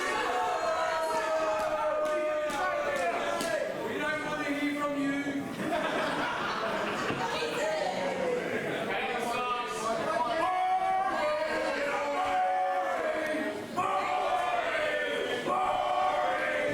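A wrestling crowd at the Mean Street Mayhem show murmurs, chatters and chuckles steadily under an announcer's talk, with scattered shouts and laughter rising over a continuous hall ambience.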